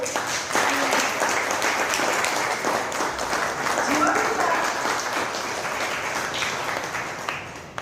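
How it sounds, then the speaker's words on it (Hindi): An audience in a literary hall applauds loudly and steadily at a writers' meet-and-greet event, the clapping sustained throughout with faint voices mixed in and tapering slightly near the end. "मैं एक बार पूरे सदन से चाहूंगी कि एक बार जोरदार ताली हो"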